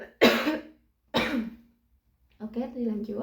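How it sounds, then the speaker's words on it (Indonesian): A female teacher coughs twice, sharp and close, in a classroom lesson, then speaks briefly. "maaf ya anak-anak, ibu sedang batuk."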